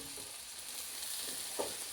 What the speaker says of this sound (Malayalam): ഇഞ്ചിയും എല്ലാം വഴണ്ട് വന്നുകൊണ്ടിരിക്കുകയാണ്.